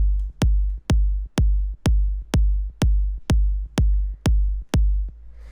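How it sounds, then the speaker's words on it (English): Eleven deep, punchy 808-style bass kick drums for minimal techno hit at a steady even pace, each with a sharp click and a booming, decaying low tail. "bassy 808 style kicks."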